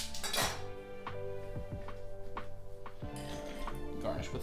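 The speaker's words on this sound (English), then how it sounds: "So go ahead and top this up with ice" Ice cubes clatter and clink into a glass of carbonated mixed drink made with Owens craft mixer, a burst of sharp knocks followed by scattered clinks, close and fairly quiet.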